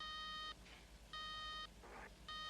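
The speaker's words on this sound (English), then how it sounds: "Ruby, why don't you answer the phone?" Telephone ringing unanswered in a railway dispatch office, three even electronic ring bursts about half a second each with gaps between, faint and steady.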